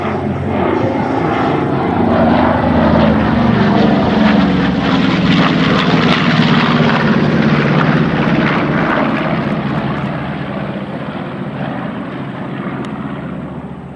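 A B-25 bomber makes a pass at an air show, its radial propeller engines producing a loud, rough, sustained roar that swells and slowly fades as the aircraft flies by.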